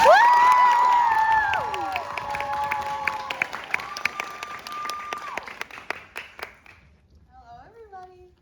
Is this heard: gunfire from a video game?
no